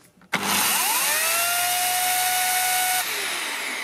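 A Parkside PKS 2200 A1 electric chainsaw starts and runs at full speed without cutting, a loud, steady, high whine that holds and then eases slightly as the motor stops being driven.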